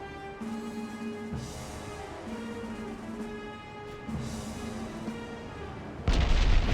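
Naval gunfire and shell hits on the player's own ship in Ultimate Admiral: Dreadnoughts, 1890s-era hulls, heard as a steady rumbling battle drone with tonal humming, ending in a sudden loud blast near the close.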